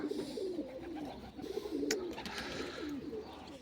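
Pigeons coo nearby in low, rolling, repeated calls that overlap one another, with a brief rustle or flutter partway through.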